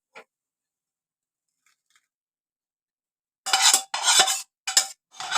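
Roasted dry ginger is stirred and scraped out of a pan, starting with a faint tap and near silence, then giving way to several loud, rough scraping and rattling bursts close by.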